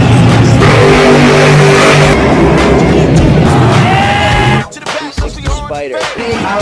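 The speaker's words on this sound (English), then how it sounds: "you ready to give it some gas? My 1994 Dodge Viper RT10." A 1994 Dodge Viper RT10 revs loudly up close, a deep sustained roaring engine that climbs in pitch, then cuts off sharply and gives way to a few fainter revs and rumbles.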